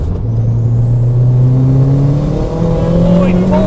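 A front-wheel-drive Ford Fiesta with a swapped engine accelerates hard, its engine note climbing steadily in pitch through the gears, loud and close, with the rumble of the cabin underneath.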